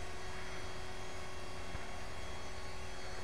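A radio-controlled HK 450GT helicopter flies outdoors, its motor and rotor producing a steady, unbroken whine and hum from close by.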